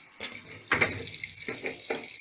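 Water pours steadily into a Brastemp Clean 5 kg top-loading washing machine (BLL22MGD) filling on a delicate soak cycle, a continuous close hiss and splash that swells louder partway through.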